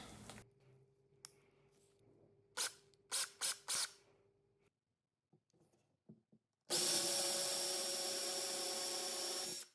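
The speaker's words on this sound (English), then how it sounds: "Now it was time to drill hardware holes for my new knobs." A power drill bores knob holes in wooden mahogany furniture: a few sharp knocks and scrapes, a pause, then a loud, steady drilling whine that runs close and unbroken for about three seconds with no talking.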